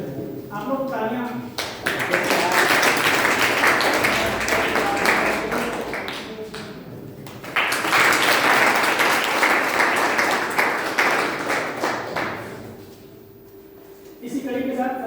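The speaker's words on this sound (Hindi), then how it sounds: "आप लोग तालियां।" An audience at an automobile sector expert talk at a college in Kannauj applauds in two long sustained bursts of dense clapping, with a short lull between them and voices at the start and end.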